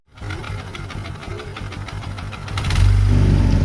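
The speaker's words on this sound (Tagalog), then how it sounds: "Ano ba yung posibleng tunog ng clutch damper kapag maluwag na?" A loose clutch damper inside a motorcycle engine rattles as a fast, steady mechanical clatter over the idling engine, which grows louder and rougher near the end.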